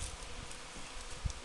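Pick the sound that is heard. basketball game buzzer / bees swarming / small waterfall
bees swarming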